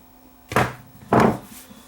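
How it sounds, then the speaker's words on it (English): Screw being fitted back into a device's battery cover, two short close handling thunks with faint rubbing, quiet and isolated. "Place the screw back in."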